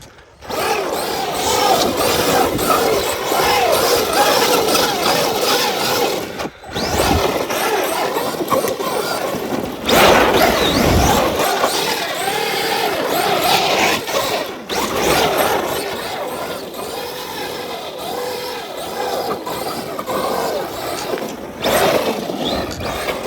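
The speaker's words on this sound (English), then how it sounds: "let's do a little bit of drifty drift on the ice" A Traxxas Maxx 4S 1/10 scale RC truck drifts on ice in the snow, its electric motor whining loud and continuous with rising and falling pitch, dropping out briefly a couple of times.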